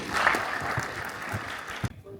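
Brief applause from an audience at a Turkish earthquake risk planning meeting as the provincial AFAD director is invited to the podium, a dense clapping wash lasting under two seconds before cutting off abruptly.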